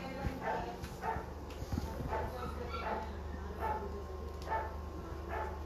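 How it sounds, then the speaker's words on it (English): Rescue dogs at a rescue house bark repeatedly in short, evenly spaced yaps at moderate distance, over a low steady hum with faint whimpering and occasional background voices. "These poor dogs."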